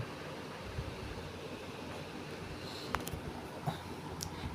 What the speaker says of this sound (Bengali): তো আমরা সবাই ট্রেনের মধ্যে বসে আছি, ট্রেনে বসে আছি